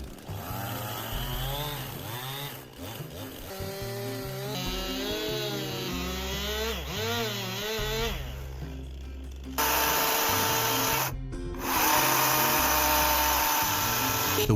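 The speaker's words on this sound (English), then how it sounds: "The wood is being cut straight and accurately using a chainsaw so that the door frame can be installed." A chainsaw cuts logs for the door frame of a wooden cabin in a deep forest, its engine whining and shifting in pitch as it revs and bites into the wood, then running steadier and louder toward the end.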